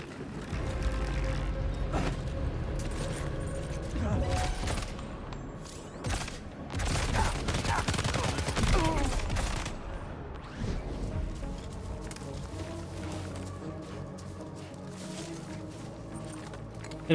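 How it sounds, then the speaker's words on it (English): Gunfire from the video game Death Stranding 2 comes in loud, ragged bursts over a busy bed of game sound effects and ambience, with the heaviest shots clustered in the middle. "Enemies heard a gunshot."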